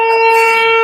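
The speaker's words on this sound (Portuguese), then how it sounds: "Aqui toca uma sirene" A steady, loud siren wails for under a second, a sustained tone with strong harmonics and no voices over it.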